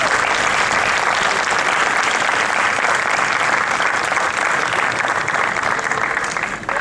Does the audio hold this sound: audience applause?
yes